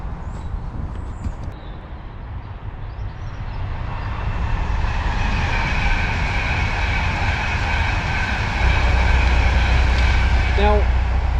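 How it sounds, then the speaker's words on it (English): A train running on a railway line just behind a narrowboat marina, a broad rumbling roar that swells and grows louder over several seconds and holds steady to the end. "has got a train line right behind it."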